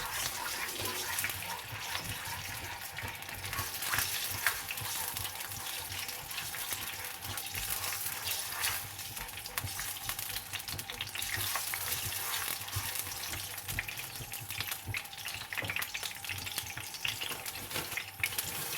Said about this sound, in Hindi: अदरक लहसुन के पेस्ट को डालने के बाद मैं थोड़ा सा भून लूँगी।